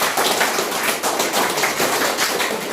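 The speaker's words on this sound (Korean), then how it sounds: "우리 저기 강사에 박수 한번 하시도록 하고" Lecture hall audience applauding a lecturer: dense, steady clapping from many hands, continuous and fairly close, with no pauses.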